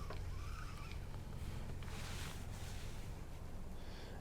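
Wind gusting over open water around a small fishing boat, a steady low rumble of buffeting with a brief rushing swell in the middle, continuous and fairly quiet, with no one talking.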